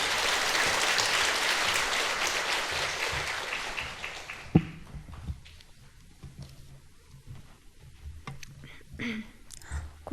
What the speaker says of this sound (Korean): 큰 박수로 좀 환영해 주시길 바랍니다